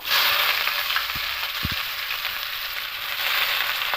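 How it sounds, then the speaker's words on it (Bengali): Sliced onion fries in hot oil along with whole spices (bay leaf, cardamom, cloves, cinnamon), giving a steady close hiss with a few brief clinks of a utensil against the pan, no speech. "পেঁয়াজটা দিয়ে হালকা একটু ভেজে নেব"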